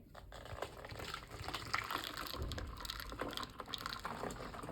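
A spiced fūl seasoning mixture pours through a funnel into a glass bottle, giving a soft, continuous trickling and pattering pour with faint clinks, close and quiet, with no talking.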